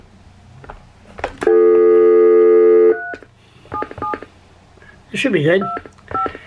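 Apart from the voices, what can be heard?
telephone being dialed, dialing tones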